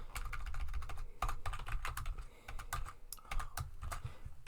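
Fingers tap quickly on a computer keyboard during a Python coding session, giving bursts of crisp, uneven clicks with short pauses between runs, close and clear with no talking.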